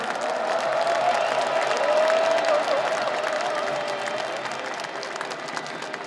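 Large crowd at a Korean political party presidential nominating convention claps and cheers loudly in a sustained roar, with a drawn-out shout rising above the applause before the noise gradually eases.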